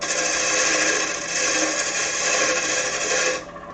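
A metal lathe runs with a cutting tool against metal, giving a steady, close, rasping whir that holds evenly for several seconds before dropping off sharply near the end.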